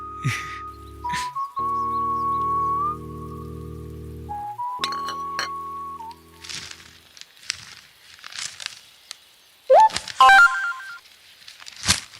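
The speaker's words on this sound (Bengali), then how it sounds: "ওকে বাবা, এক্ষুনি এসএমএস করে দিচ্ছি।" Mobile phone keypad tones as an SMS is typed: short electronic beeps of varying pitch, some clustered and some spaced apart, close and clear, mixed with light clicks and a few quick rising chirps near the end.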